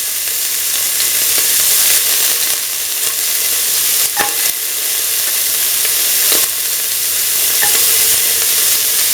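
Garlic sizzling in hot oil in a pan for an egg and bell pepper stir fry, a steady loud hiss with a few clicks of stirring utensils and a brief flare partway through.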